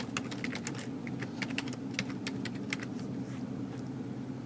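Someone types on a computer keyboard in quick, irregular clicks, close and fairly quiet over a low steady background hum.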